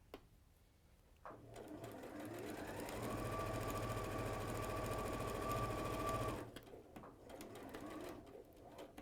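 A sewing machine stitching around the outside edge of fabric, its motor whirring into a steady, loud mechanical hum for a few seconds before stopping abruptly, with quieter room noise before and after.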